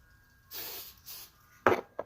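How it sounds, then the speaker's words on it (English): A spray can gives two short, faint hissing bursts while hair is being curled, followed by a couple of louder handling knocks. "That was like the most pathetic little spray I've ever done."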